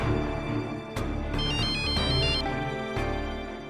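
A phone ringtone sounds during a domestic scene, a repeating electronic melody with bright tonal chirps that start and stop in short bursts, fairly faint and alone without talk.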